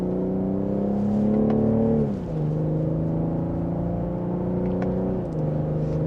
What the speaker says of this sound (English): Here's a minor acceleration.